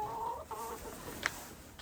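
Chickens cluck softly in a short burst of near, low, irregular fowl calls, with one sharper squawk partway through over a quiet outdoor background.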